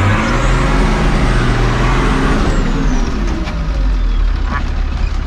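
An off-road vehicle drives at night over rough rollover terrain, its engine a loud, steady low rumble with continuous broadband road noise throughout, and people talk faintly beneath it.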